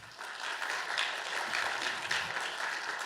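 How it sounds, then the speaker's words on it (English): An audience at a university economics event on student and faculty exchange applauds the professors present, a fairly soft but continuous patter of many hands clapping that rises after a quiet start and carries on evenly. "I want you a round of applause for all the professors that are here"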